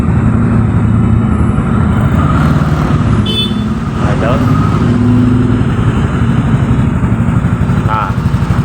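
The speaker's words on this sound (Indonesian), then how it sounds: "Motor hidup ya." A Yamaha Aerox scooter engine idles steadily and close by for the whole stretch, a constant low rumble with a brief higher whine partway through.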